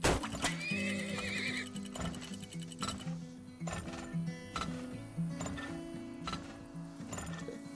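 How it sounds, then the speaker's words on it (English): Horses neigh and hooves clop in the town-building video game Termoil, with steady game sounds and a music bed throughout and repeated whinny-like calls over a busy, dense mix. "Okay, time to speed up the horses."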